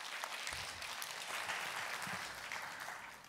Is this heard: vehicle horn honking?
no